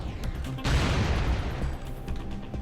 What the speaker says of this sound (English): I use the left mouse key to shoot lasers and the right mouse button to shoot missiles